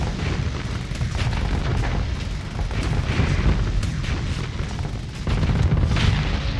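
Missiles explode in a video game in a steady, roaring barrage of rumbling booms and bursts. The sound is loud and continuous throughout, with a heavier swell near the end.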